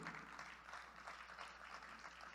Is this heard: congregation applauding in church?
yes